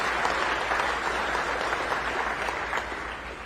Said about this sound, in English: let's give Bex a round of applause for what they